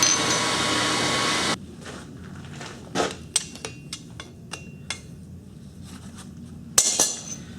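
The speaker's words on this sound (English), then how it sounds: "we're going to heat up the metal, we're going to stick it on here, hit it with the hammer, and then stamp our piece" A blacksmith's hammer strikes hot iron and stamps it while forging a baseball-holder artwork; a loud steady roar gives way to a series of sharp, separate metallic clanks at irregular intervals, close by.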